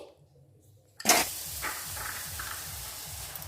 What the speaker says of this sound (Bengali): গুড়টা আমি এবারে কড়াতে দিয়ে দিচ্ছি।